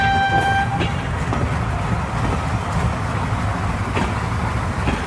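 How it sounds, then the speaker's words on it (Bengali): A train rushes past along a railway line without stopping at the station, a loud continuous whooshing roar with a brief horn-like tone at the start. "আবারও একটা ট্রেন হুঁশ করে বেরিয়ে যায় রেল লাইন ধরে, দাঁড়ায় না স্টেশন"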